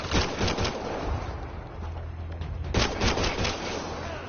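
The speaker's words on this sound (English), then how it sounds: "Fuck it, I'm just gonna shoot." Rapid bursts of gunfire from a firefight in the video game Mass Effect Andromeda, loud and dense at the start, easing mid-clip under a low steady hum, then erupting again into repeated volleys.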